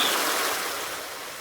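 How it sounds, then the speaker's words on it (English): Water pouring steadily inside greenhouses in the Farming Simulator 19 game on a Sussex farm map, a continuous broadband rushing gush at a steady level with no voices. "the greenhouses are pouring down with water"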